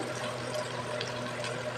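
Water steadily poured into a cooking pot for tomato rice, a continuous close-up gurgling, trickling stream with no talking over it.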